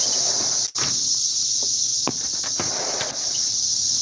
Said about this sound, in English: There's some locusts back here.